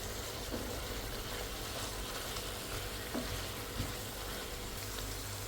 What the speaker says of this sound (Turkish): Tekrardan etle beraber onları da kavuracağım.